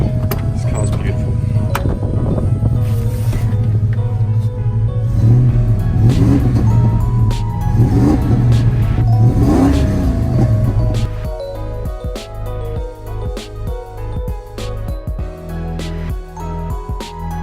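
A restored Holden VN Commodore runs with a steady low idle, rising in several revving swells before settling into a rougher, pulsing idle, loud and close.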